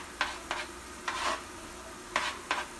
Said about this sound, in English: add these onions to this ground beef